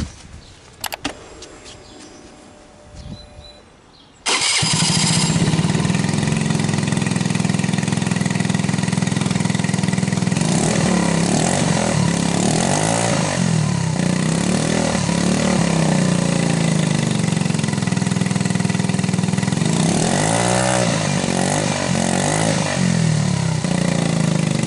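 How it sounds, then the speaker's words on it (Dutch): A Vespa Sprint or Piaggio Zip scooter with a carbon exhaust and its dB-killer removed starts after a few seconds of faint rattling, then idles loudly with a steady, rough drone to the end. "En dan gaan we nu starten zonder de db-killer."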